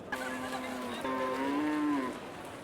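A single cow lows in a long drawn-out moo at a crowded Qurbani cattle market in Charmonai, Barishal, close and clear over a low murmur of background crowd noise.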